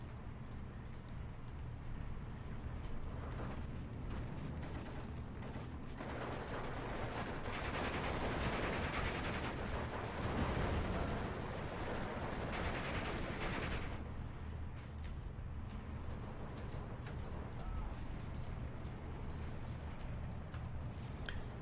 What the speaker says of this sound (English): Very nice mortar strikes right there